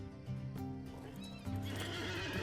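A horse whinnies in Lord of the Rings Online, a loud, drawn-out neigh heard alone, with clip-clop hooves and game sounds behind it and a second surge of the call near the end.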